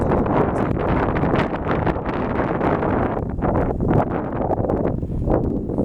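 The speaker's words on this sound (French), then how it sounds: "il y a l'air d'avoir pas mal de vent" Gusting wind buffets the microphone outdoors while a Parrot Bebop 2 drone flies about 140 metres away, a continuous rough roar with fluctuating rumble and no other clear sounds.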